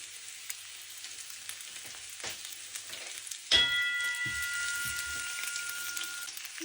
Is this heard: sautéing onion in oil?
yes